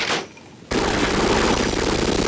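Gunfire from the super shotgun in Half-Life multiplayer: a short blast, a brief dip, then a sudden loud wall of harsh booming fire that runs to the end without pause.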